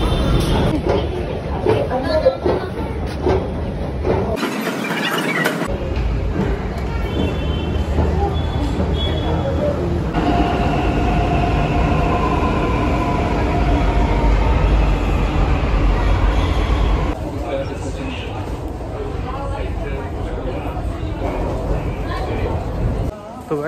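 A metro train at a station fills the air with a continuous loud rumble and rising motor whine, broken by a brief dropout and later door or platform clatter, with passengers talking faintly underneath.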